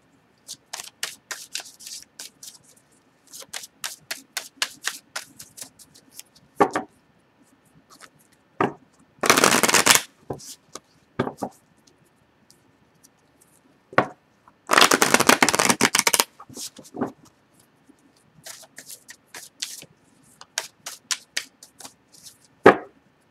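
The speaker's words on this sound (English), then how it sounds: "I like to put the camera up so you guys could see me shuffle" Tarot cards are shuffled repeatedly up close: rapid flicking riffles, with two longer riffle bursts standing out, between softer taps and slides of the deck.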